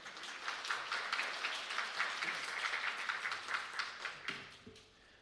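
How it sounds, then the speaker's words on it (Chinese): A church congregation at Sunday service applauds in welcome, a steady wash of many hands clapping that fades out toward the end. "一起来拍手欢迎来"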